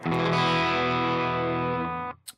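A guitar played through the Mako Distortion plugin with a boxy impulse response loaded rings out as one sustained, heavily distorted chord for about two seconds, then cuts off abruptly with a brief pick noise at the end.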